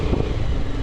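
A motorcycle rumbles steadily close by, a continuous low engine drone throughout the short stretch of riding on the road toward Dharan for a basketball tournament.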